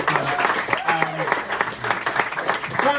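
A comedy club crowd claps in a steady wash of applause, with voices speaking and calling over the clapping throughout.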